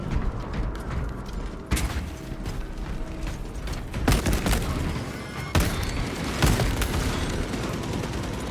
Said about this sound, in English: Fresh magazine in.